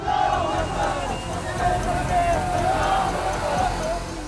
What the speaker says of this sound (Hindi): फिर तो जैसे भागम भाग मच गई।